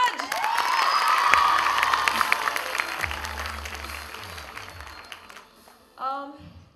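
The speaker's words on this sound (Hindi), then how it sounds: "और अब जोरदार तालियां जितने बच्चे यहाँ आए आज" Children at an ambassador program launch with a celebrity guest clap and cheer with shouts and whoops, loud at first and tapering off, then a voice speaks briefly at the end.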